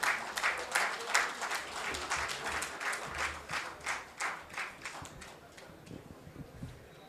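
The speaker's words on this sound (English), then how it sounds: "I request everyone to kindly give a huge round of applause for our elected members." An audience at a formal Bhubaneswar branch event applauds its elected members, brisk clapping that builds early then gradually thins out, with a few faint voices underneath.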